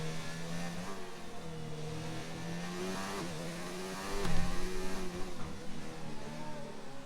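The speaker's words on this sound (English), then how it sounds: "as we will go on board with Panda Cruiser, who is just ahead of him there, who has just started his lap in the McLaren." McLaren racing car engine in a Monaco Grand Prix racing video game, a steady high whine with shifting pitch and a brief louder rev near the end, heard alone.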